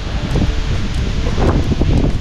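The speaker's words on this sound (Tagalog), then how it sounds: "napakalakas ng hangin dito" Strong monsoon wind buffeting the microphone with a loud, steady rushing roar and rustling leaves, continuous and close throughout.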